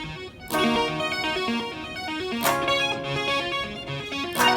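Meris Enzo synth pedal plays in poly and mono modes at once, producing bright, buzzy synth chords with sharp swelling attacks roughly every two seconds and a stepping bass-register line underneath, with no talking.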